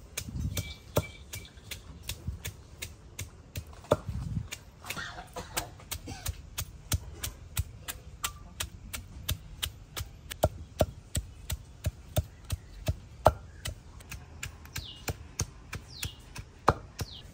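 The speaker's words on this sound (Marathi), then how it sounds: "दोडके पाट्यावर ठेचून घेणार आहे।" Ridge gourd crushed on a stone grinding slab, giving a long run of sharp, regular knocking thuds, close and fairly steady in rhythm, with no talk.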